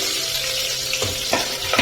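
Onions frying in hot oil with mustard seeds and curry leaves as a tempering for a double beans masala gravy: a steady, close sizzle with scattered crackles and a few soft stirring scrapes, and no voices.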